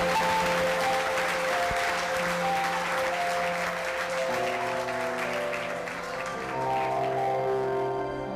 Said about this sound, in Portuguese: você pode aplaudir o nome do Senhor, porque Ele é digno